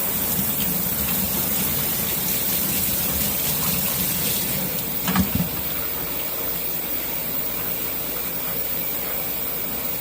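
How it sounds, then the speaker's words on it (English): A garden hose sprays water steadily over dirty rocks to wash the dirt off, a constant close gushing hiss that changes only briefly midway as the stream shifts. "A lot of this is just requiring a hose off."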